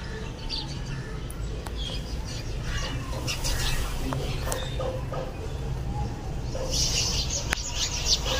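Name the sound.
small birds chirping in a tree and flying off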